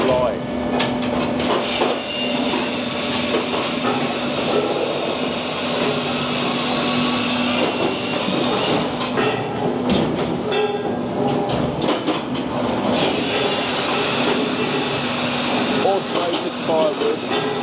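Automated firewood processor running in a fuelwood yard, a continuous mechanical roar with clanks and thumps of logs being cut and split, steady and loud throughout.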